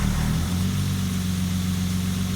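A Citroën 15 CV with coachbuilt bodywork runs close by with a steady, low idling drone and even engine pulses, holding a constant level throughout with no one speaking.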